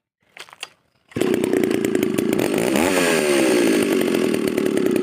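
A few soft clicks, then a Japanese motorized pruning saw starts and runs loud and steady, its engine pitch wavering slightly.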